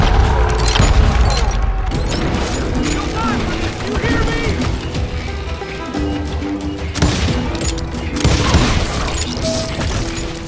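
A chaotic shootout in the western game Call of Juarez: Gunslinger, loud bangs and booms crowding a dense, busy mix with a voice talking continuously over the action.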